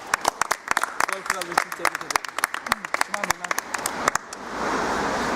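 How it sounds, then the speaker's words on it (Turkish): Sharp, separate hand claps from a small group ring out for a football top goal scorer after a championship win, with voices talking between them, before a broader wash of clapping and noise swells at the end. "Ramazan Bey için de bir alkış alalım lütfen."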